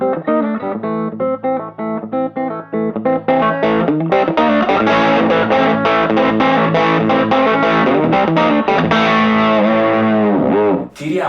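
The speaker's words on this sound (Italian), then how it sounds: "Sugli humbucker, qui un Di Marzio Tone Zone, la risposta è più moderna e c'è una percussività niente male" Overdriven electric guitar through a DiMarzio Tone Zone humbucker and an LAA True Coil overdrive, playing a loud, sustained distorted passage with punchy, percussive attack that runs almost unbroken and stops briefly near the end.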